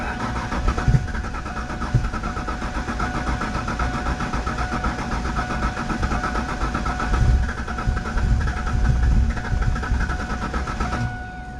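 An old engine firing and running roughly after a shot of ether, with uneven combustion and a steady mid-pitched rumble that swells slightly near the end, recorded close with no talk.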